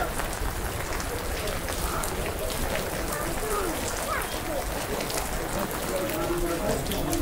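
Rain falls steadily in Pahalgam, Kashmir, as a dense, constant hiss of drops. Voices are faintly mixed in.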